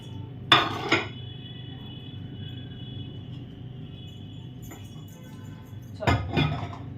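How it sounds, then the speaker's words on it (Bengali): Plates and dishes being gathered for washing in a home kitchen during a Bengali lunch: two short bursts of clattering ceramic and clinking separated by a quiet stretch, nearby and without speech. "থালা তো ধুতে বের করে দিলাম"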